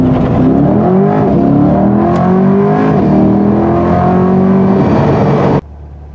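A 2021 Chevrolet Corvette Convertible launches hard in sport mode from inside the cabin, its engine roaring loudly and rising in pitch through the gears in repeated sweeps, then cutting off abruptly.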